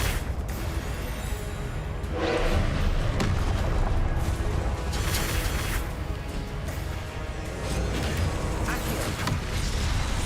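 Booming blasts from the Confringo spell in Hogwarts Legacy, a few heavy explosions rolling through a thick layer of game music and effects.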